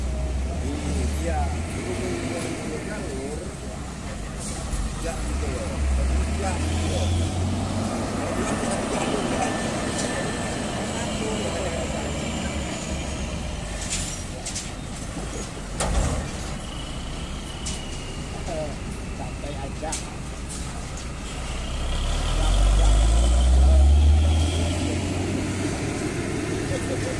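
Long Pertamina LPG tanker trucks crossing a bridge in Central Lampung, a continuous roadside rumble of heavy engines swelling into a deep near pass late on, with people talking throughout over the traffic.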